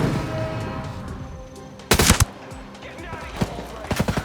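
Gunfire in a fast-paced shooting video game: a sharp burst of shots at the midpoint followed by several scattered single cracks, heard over background game sounds.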